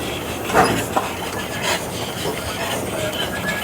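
A steam locomotive train on the Vale of Rheidol Railway in Aberystwyth rumbles along the rails nearby with soft hissing and a few clanks, a constant moving-train background.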